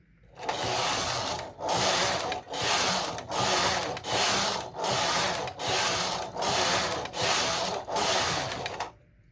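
Singer knitting machine carriage sliding back and forth across rows of stocking stitch, a steady series of about nine loud raspy passes, each lasting nearly a second with brief pauses between, with no talking.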